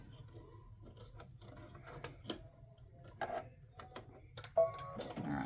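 An embroidery machine stitches the feet of a football turkey mug rug, its needle ticking in a quick, steady rhythm with occasional louder clacks, close and fairly quiet.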